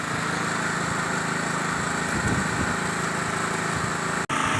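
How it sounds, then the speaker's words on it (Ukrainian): A steady mechanical whir of a heat pump fan running continuously, a constant motor drone with a brief dropout near the end. "Так, це пішов тільки вентилятор зараз."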